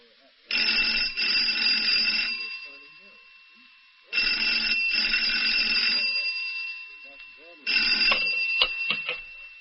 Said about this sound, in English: Study received a phone call.